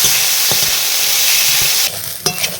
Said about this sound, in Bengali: সব সবজিগুলো এবার আমি 10 মিনিট মতো ভেজে নিই